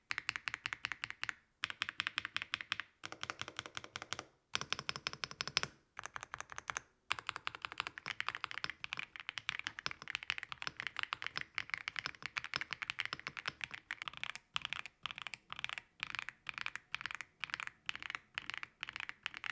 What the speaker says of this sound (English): The Leo Bog switches are so freaking satisfying.